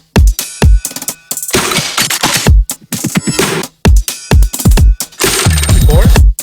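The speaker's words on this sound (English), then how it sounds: "So I'm going to gate that reverb, and now it sounds like this." Drum hits and percussive sounds with reverb tails cut off abruptly by a gate effect from a Shaperbox plugin, forming short loud bursts separated by sharp gaps in a choppy rhythm.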